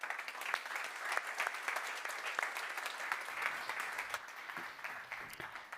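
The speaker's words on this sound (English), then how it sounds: "So please give a warm round of applause, John Uhlmann." A conference audience at the Neos Conference 2024 applauds to welcome a speaker onto the center stage, with sustained clapping and sharp individual claps standing out, steady and moderately distant.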